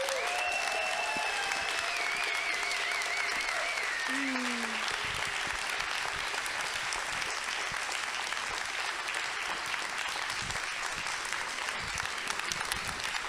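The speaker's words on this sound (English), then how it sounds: "So can we get another round of applause for our panelists up here?" An audience at a film panel and Q&A applauds the panelists, a steady roar of clapping that fills the whole stretch, with brief whistles rising above it.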